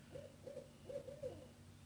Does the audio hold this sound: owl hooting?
yes